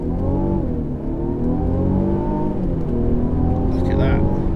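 A 2019 Mercedes E350 with a 2.0L engine launching hard from a standstill: loud, close engine roar that climbs in pitch, drops briefly at a gear change, then rises again under steady cabin noise.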